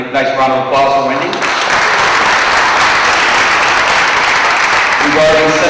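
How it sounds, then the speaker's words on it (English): Loud, sustained applause from a crowd fills the room for several seconds, with a voice speaking briefly before it starts and again as it fades. "Nice round of applause for Wendy."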